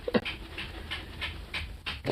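A pet dog pants in short, quick breaths and gives a couple of brief whimpers, close by and fairly quiet, with a louder huff at the end.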